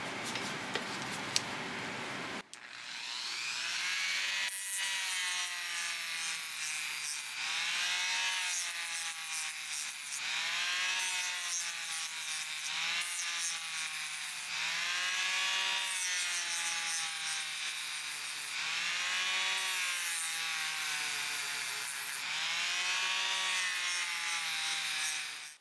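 Sander fitted with a 150 grit disc working the side of a pair of vintage Boker short chain needle nose pliers, giving a high whirring drone broken into repeated passes after a brief lead-in.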